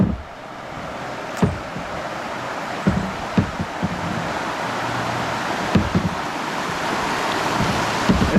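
Rushing water while floating over a low dam on Antietam Creek: a steady roar of churning current and wind buffeting the microphone, broken by several sharp splashes and knocks as a wave washes in.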